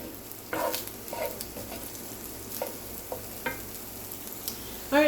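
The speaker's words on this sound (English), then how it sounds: "we're going to cook down our onions for about 10 minutes" Chopped onions cooking down in a pan for a Hatch green chile sauce, giving a steady soft sizzle with occasional louder scrapes and stirs against the pan.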